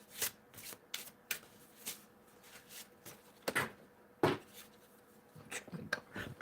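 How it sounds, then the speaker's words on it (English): Playing cards being shuffled and dropped, a series of crisp riffling bursts and soft slaps at an uneven pace, close and fairly quiet with no talk over them. "dropping the cards"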